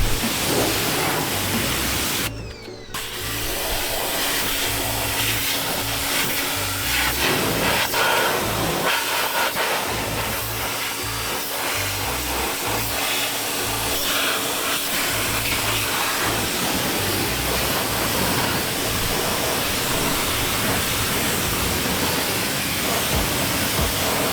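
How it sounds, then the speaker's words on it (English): A pressure washer blasts leftover dirt and debris from inside a car wheel barrel behind the spokes during exterior detailing: a loud, dense, roaring hiss that runs almost nonstop, breaking off only for a moment near the start. "use my pressure washer to do some scrubbing for me"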